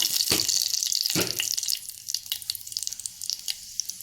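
Cumin and mustard seeds crackle in hot oil for an Indian tempering, a loud steady sizzle for the first couple of seconds, then thinning into scattered pops and spits.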